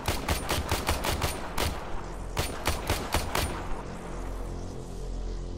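Rapid automatic gunfire from the video game Warframe, loud bursts of closely spaced shots in two volleys, trailing off into a low rumbling hum with no talking.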